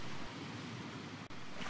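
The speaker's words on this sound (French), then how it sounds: "L'eau qui se retire." Soft surf washes back down a beach, a brief gentle hiss of retreating water with a short dip near the end.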